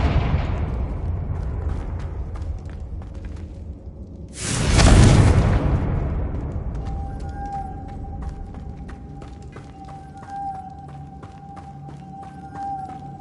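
Confringo blast spell cast in the Hogwarts Legacy video game: one loud, broadband explosive boom bursts out after a stretch of ambient game sound, then fades into a low rumble and steady tonal hum with faint clicks.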